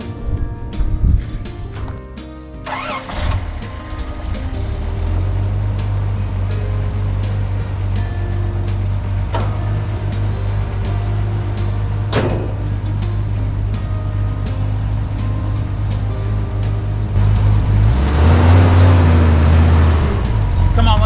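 1983 Toyota Land Cruiser FJ60 engine cranking, catching and settling into a steady, loud low idle, with a few revs near the end.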